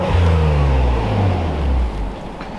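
A Honda car engine revs hard into its rev limiter, a loud close drone that climbs, holds and then drops off as the limiter cuts in, with wind noise outside.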